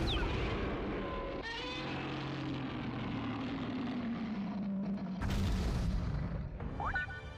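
Video game explosions boom and rumble as Godzilla destroys an area, with a low droning tone, crashing bursts and sweeping electronic effects layered over a continuous roar.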